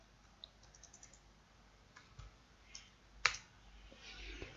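Sparse key clicks from typing numeric coordinates on a computer keyboard while setting up a progress bar in a video editor, faint and intermittent, with a sharper click near the end.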